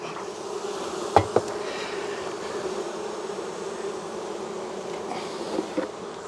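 A dense, continuous drone of many honeybees buzzing close by around an open hive, with a couple of sharp clicks or knocks early on.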